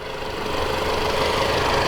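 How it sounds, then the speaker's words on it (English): A 2018 Alfa Romeo Stelvio Ti's 2-liter turbocharged four-cylinder engine running at idle, a loud, close, steady hum with a faint rhythmic knock, alone without talk. "There's that powerful 2-liter turbocharged engine, makes about 280 horsepower, 300 pound-feet of torque."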